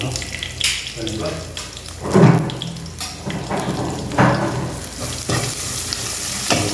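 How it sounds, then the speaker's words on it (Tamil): Crushed pepper spices are stirred into a village-style pepper rasam, with scraping stir strokes, light splashing and a soft background sizzle at close range, and brief low voices in places. "இப்போ இந்த இடித்து வச்சதை அதை மிக்ஸ் பண்ணிடுவோம்."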